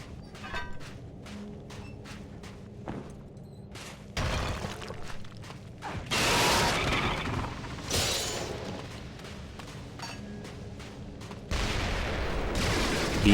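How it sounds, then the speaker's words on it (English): A rapid series of sharp bangs and booming blasts in the video game Hellboy: The Science of Evil, some clustered like gunfire, others heavy and rumbling, rolling on loudly with little pause. "These very loud explosions can actually hurt you, you just need to run straight through"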